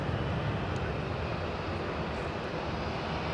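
A British Airways Airbus A319 airliner arriving from London Heathrow, a steady broadband engine roar and rumble, moderately distant and unbroken, with no talk.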